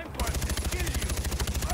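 Rapid automatic gunfire in the video game Far Cry 4, a steady stream of close, loud shots in quick regular rhythm lasting the whole moment.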